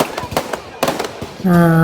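Fireworks and firecrackers burst in a quick series of sharp, close cracks and pops, followed by a sustained tonal whistle near the end.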